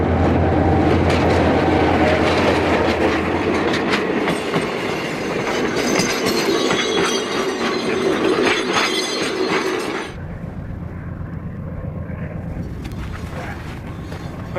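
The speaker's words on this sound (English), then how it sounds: "this train shows no sign of stopping or even slowing" A train runs steadily on rails with continuous rumbling wheel noise and clatter, loud and close, before the sound drops to a duller, muffled roar near the end.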